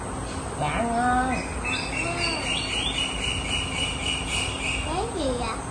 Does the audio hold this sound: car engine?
no